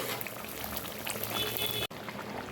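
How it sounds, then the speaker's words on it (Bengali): Water pours steadily into a covered pot of dum chicken, giving a continuous close liquid rush with a bubbling, simmering texture for a couple of seconds. "আর একটু জল দিয়ে ঢেকে দেবো"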